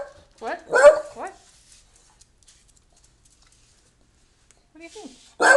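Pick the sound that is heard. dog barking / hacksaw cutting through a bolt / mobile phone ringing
dog barking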